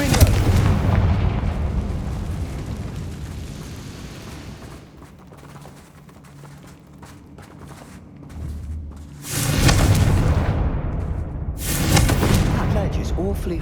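Fiery spell blasts in the Hogwarts Legacy video game: heavy booming explosions with rumbling tails, one big burst and then another a few seconds later, mixed with game sounds and a voice.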